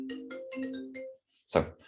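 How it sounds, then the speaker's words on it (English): A short sequence of electronic ringtone beeps from an incoming phone call, several tonal pulses in quick rhythm, followed by a brief spoken word. "that was a phone coming in"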